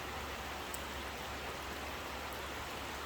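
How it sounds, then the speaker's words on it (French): Steady rain falls during a moderate summer thunderstorm near Grenoble in the Alps, a dense, even hiss that stays constant throughout without any talk. "Oula la pluie."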